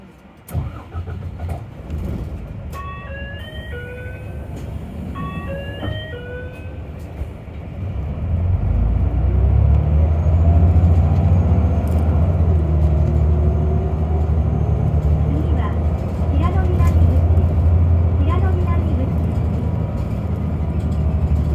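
Isuzu Erga city bus on Osaka City Bus route 73 heard from inside: quiet cabin tones and a chime early on, then a loud, steady low engine drone as the bus pulls away and keeps running.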